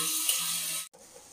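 Tomatoes, potatoes, drumsticks, carrots and brinjal sizzle and fry steadily in a pan for sambar, a continuous close hiss that cuts off abruptly near the end and returns quieter.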